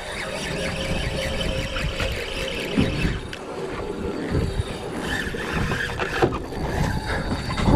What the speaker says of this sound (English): Got this rod screaming.